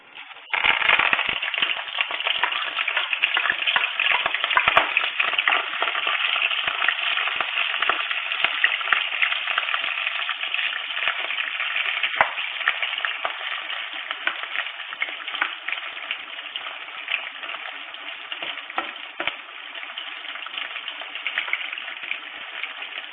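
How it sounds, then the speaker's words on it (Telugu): Onions, green chilies, mustard seeds, cumin, lentils and curry leaves fry in oil in a kadai. A loud, continuous sizzle with scattered crackling pops holds steady from start to finish. "కొంచెం నూనె వేసి ఉల్లిపాయలు, పచ్చిమిరపకాయలు, ఆవాలు, జీలకర్ర, పప్పులు, కరివేపాకు"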